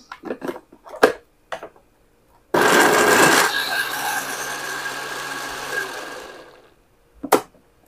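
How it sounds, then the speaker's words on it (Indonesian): A kitchen blender purees food, starting with a few sharp knocks, then about four seconds of loud, close whirring that gradually fades, followed by one final knock. "langsung di blender"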